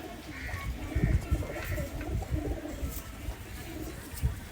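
Kamagar pigeons coo close by in low, repeated throaty calls over a soft background rustle.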